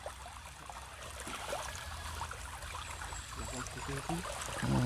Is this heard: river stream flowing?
yes